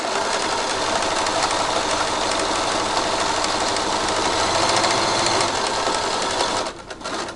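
A sewing machine stitching polar fleece for a mermaid tail, a fast steady mechanical whirr running continuously, then slowing and stopping near the end.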